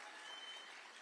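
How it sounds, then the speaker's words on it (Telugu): Audience applause at a political rally, a dense wash of claps filling the whole second at steady level, recorded at low volume. "గట్టిగా చప్పట్లు కొట్టాలి."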